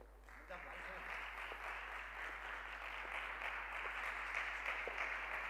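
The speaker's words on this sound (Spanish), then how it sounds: "Un fuerte aplauso, por supuesto, para Alberto García Bataller" Applause at a sports and equality conference for a speaker who has just finished a talk on training and the menstrual cycle: steady, fairly distant clapping from the audience, soft but continuous.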